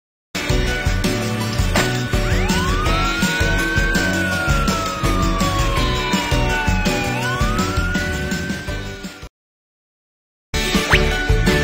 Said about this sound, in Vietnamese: Xe cảnh sát.